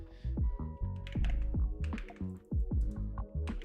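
Typing on a computer keyboard at a desk during a live co-working stream, a dense run of close, uneven key clacks and thunks filling the whole stretch with short gaps.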